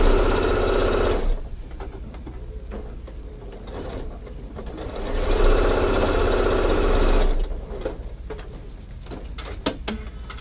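Domestic sewing machine stitching quilt block pieces with a quarter-inch seam, two bursts of steady, rapid whirring separated by quieter pauses filled with faint handling clicks and rustles.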